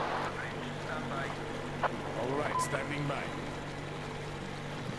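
A boat engine in the video game Metro Exodus hums low and steady beneath nearby talking voices, with faint wind and water noise around it.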